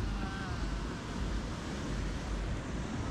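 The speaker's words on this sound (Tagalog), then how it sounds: "Pero grabe, solid ng mga alon dito." Ocean surf rolls in at La Union beach, a broad, steady wash of breaking waves with wind noise, fairly faint and continuous with no clear talk.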